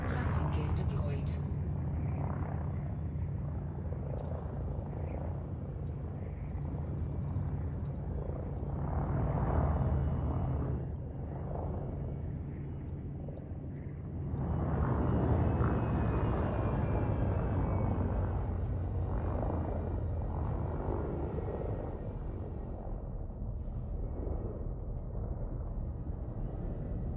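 Aircraft with landing gear deployed, likely in a video game, giving a loud continuous low engine rumble and roar that swells and dips over the clip.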